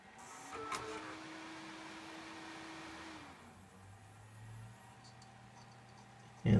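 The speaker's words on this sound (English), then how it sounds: "you may have heard the fan spun down" A desktop computer's cooling fan, heard faintly and close, whirs steadily before its pitch slides down and fades to a lower hum; a sharp click or thump lands at the very end.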